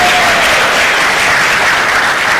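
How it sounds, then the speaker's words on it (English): An audience at a national exhibition opening ceremony claps in loud, dense, continuous applause, close and sustained throughout with no talk over it. "One final round of applause to close off the opening ceremony, ladies and gentlemen."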